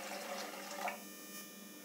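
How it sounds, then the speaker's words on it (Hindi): Water pours into a pan set on a gas stove for boiling pasta, a steady splashing gush that eases into a quieter, even trickle partway through. "हमने उबालने के लिए एक पैन रख दिया है, इसके अंदर अब हम पानी डालते हैं।"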